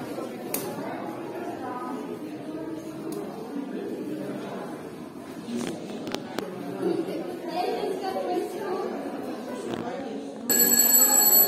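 A theatre's first-call bell rings out at a youth theatre in Odessa, a loud sustained electric ringing arriving near the end after a stretch of murmuring audience chatter and voices.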